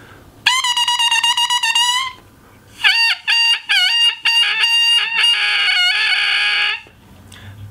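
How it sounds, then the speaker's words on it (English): An oboe reed sounds alone, off the instrument, in bright, nasal squawks: one long sustained tone, then a string of short crowing bursts and a final held note. "The standard sound and then the crow tell you a lot about whether a reed is working or not."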